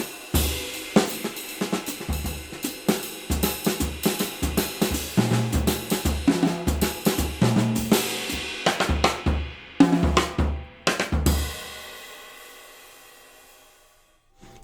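A drum set plays a Carnatic-style tihai pattern of sharp stick shots alternating with booming rack tom hits, a rhythmic series of close, punchy strokes, then a final accented group that rings out and decays into silence.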